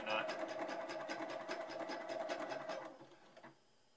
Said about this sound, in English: I have a sewing machine